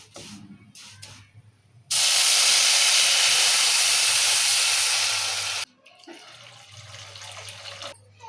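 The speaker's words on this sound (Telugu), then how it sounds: "ఇప్పుడు నీళ్ళు పోసుకుందాం." Water poured into a pan of vermicelli fried red in ghee for semiya payasam, a loud steady rushing hiss lasting a few seconds, followed by quieter bubbling and sizzling.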